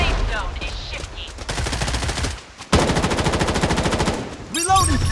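Rapid automatic gunfire in the Blood Strike video game, with dense bursts of rattling shots, a short pause, then a loud sustained stream of fire ending in a whooshing tone.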